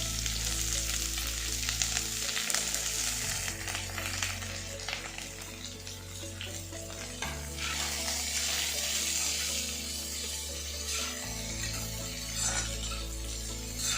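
Onion, mustard seeds, chana dal and curry leaves sauté in hot oil with a steady, close sizzle that runs throughout, beneath a constant low background hum.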